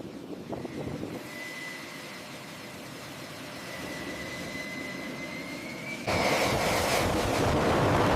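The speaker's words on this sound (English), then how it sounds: "Cleared for takeoff." F-16 fighter jet on a runway taking off, a loud steady jet engine roar with a rising whine that surges abruptly into a harsher, louder blast near the end, heard alone without talk.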